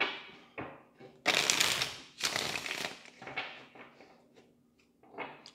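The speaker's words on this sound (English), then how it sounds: "I'll just shuffle." A deck of tarot cards is shuffled by hand close up, giving several quick, papery riffling bursts separated by short pauses at a fairly quiet level.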